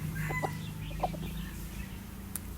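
A hybrid red junglefowl decoy rooster gives short clucks and calls against a low, steady outdoor rumble, moderately near with no one talking.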